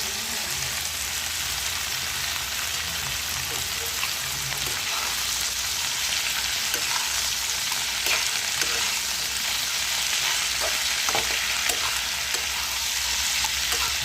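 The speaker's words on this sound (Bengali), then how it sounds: "আলুগুলো একসঙ্গে ভাজবো" Potatoes and yardlong beans fry in a pan for a poppy-seed dish, giving a steady, loud sizzle with scattered scraping clicks of stirring throughout.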